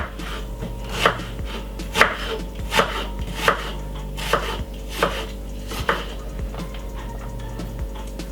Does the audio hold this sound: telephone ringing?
no